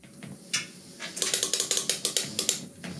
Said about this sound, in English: Oh yeah, and the very clicky magnetic carbon fiber paddle shifters.